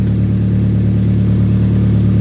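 A tuned Hyundai Genesis BK1 coupe with 100,000 miles idles close by, a loud, steady low hum with an even pulsing drone and no change in pitch.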